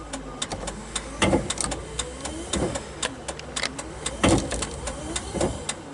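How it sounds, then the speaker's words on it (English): The windscreen wiper on a 1977 Volkswagen Sunliner campervan runs on its own, its motor whirring and ticking through repeated sweeps, with a regular mechanical clunk about every second and a half. "I started up the stupid windscreen wiper accidentally"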